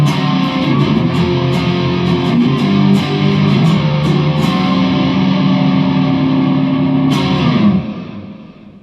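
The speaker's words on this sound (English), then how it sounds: "I've added the second distortion pedal in the line 6 stomp. Basically, I'm stacking pedals." An electric guitar, a Firefly FFSP Les Paul style, plays heavy chords through two stacked distortion pedals on a Line 6 Stomp, loud and sustained with sharp pick attacks, then rings out and fades at the end.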